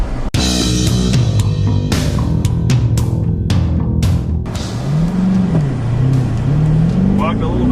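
A 2015 muscle car, one of a Dodge Challenger R/T, Ford Mustang GT or Chevy Camaro SS, accelerates hard in a 0-60 mph run. The engine roars loudly as its pitch climbs and dips through gear changes, with clatter at the start.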